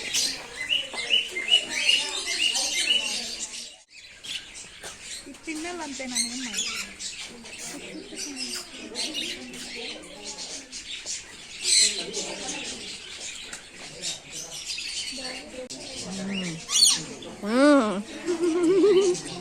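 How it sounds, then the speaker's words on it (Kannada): Many small birds chirping and squawking busily at an aviary where they are fed sunflower seeds, with people talking throughout over the steady bird chatter. "ನಾವು ಅದನ್ನ ಇಟ್ಕೊಂಡಿದ್ರೆ ಬರ್ಡ್ಸ್ ನಮ್ಮ ಮೇಲೆ ಬಂದು ಕೂತ್ಕೊಳ್ಳುತ್ತೆ"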